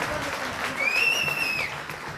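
Audience applause for a folk singer, a steady wash of clapping from a crowd, moderately loud with a faint whistle-like tone rising through the middle.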